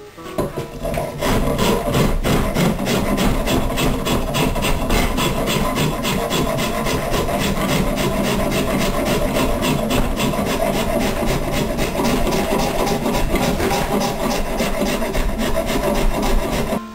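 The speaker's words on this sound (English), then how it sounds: "I've got a curved rough rasp here." A curved rough rasp shaping a wooden guitar neck, steady close rhythmic rasping strokes running continuously and loud without pause.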